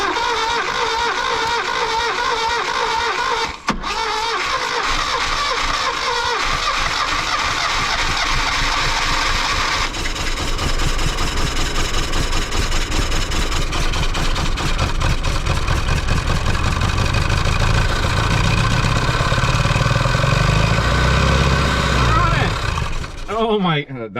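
A 1967 Toyota Stout truck engine cranks and catches after 30 years unused, then runs with a rough, uneven idle that grows louder and throbs low under overlapping talk.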